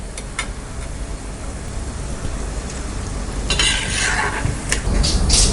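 Seedai, small Tamil rice-flour balls, fry in oil over a low flame with a steady close sizzle and bubbling, joined by a few metallic scrapes and stirs of a ladle against the pan.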